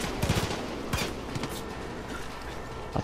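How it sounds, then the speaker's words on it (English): Gunfire in the shooter Far Cry 5, a rapid volley of shots at the start, then scattered single cracks and a sharp pair of shots at the end, mid-distance and fairly loud, with no talk. "Oh shit, we're being sniped."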